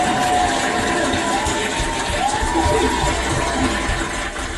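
A crowd cheers and shouts steadily in a dense, continuous roar, with higher excited voices rising over the broad din throughout.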